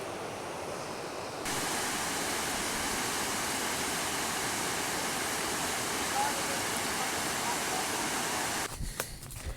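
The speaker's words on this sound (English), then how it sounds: "There is Laurel Waterfalls." Laurel Waterfalls on a long-distance trail rushes as a steady broadband roar, close and constant, with a short quieter stretch at the start and a few clatters at the end.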